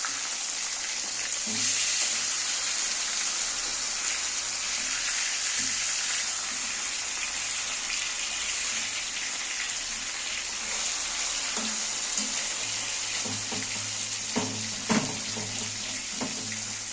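Pieces of boal fish fry in a pan with a steady, close hiss and sizzle, plus a few sharper pops and spatters breaking through the constant crackle.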